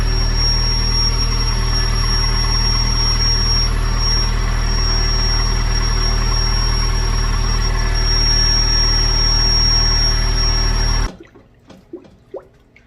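A car engine idles after its first start-up, a loud steady drone with a constant high whine that cuts off abruptly near the end, leaving faint drips and clicks.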